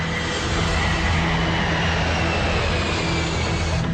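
A KLM airliner accelerating down the runway on takeoff gives a dense, loud, continuous roar of jet engines that holds steady throughout, with no voices.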